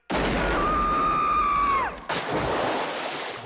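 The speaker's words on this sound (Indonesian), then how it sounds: "Madeline telah mengambil senapan milik Ernest dan menembak perutnya hingga terlempar ke arah kolam" A rifle shot goes off in a film scene at about two seconds, a sharp broadband crack that cuts off a long whistling tone. It is followed by a loud, noisy rumbling tail.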